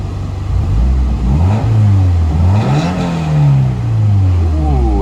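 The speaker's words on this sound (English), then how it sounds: "We'll give it a little rev here." A car engine at a salvage auction lot revs up close and loud, its pitch climbing and falling in a few throttle blips over a steady running rumble.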